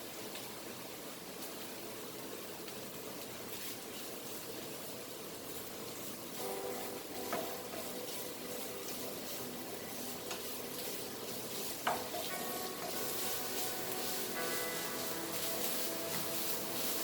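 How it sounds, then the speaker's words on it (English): Goan chicken xacuti masala frying in coconut oil: a steady, hissing sizzle runs throughout, with occasional scrapes and clinks of a spoon stirring the pan. "fry this till it nicely fried"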